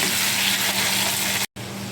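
Potato pieces frying in hot oil in a pan with a little salt, a loud steady sizzle close by with a brief dropout near the end, no voices.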